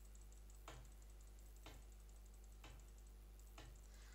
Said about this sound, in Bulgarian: Малко ми се чува мишката